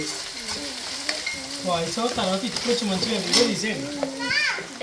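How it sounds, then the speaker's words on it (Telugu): Ginger garlic paste fries with onions in a pan, giving a steady sizzle and some stirring while a person talks over it. "మనం అలా అల్లం వెల్లుల్లి పేస్ట్ వేసుకోవాలి. అది కూడా వేగించుకోవాలి."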